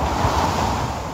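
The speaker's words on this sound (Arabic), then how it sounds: "انظروا أيها الأحبة هذا هو الموج" Deep-sea ocean waves make a dense, continuous broadband wash, loud and steady, with a windy roar throughout.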